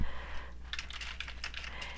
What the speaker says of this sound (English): if you just go ahead and type something in into this Google Doc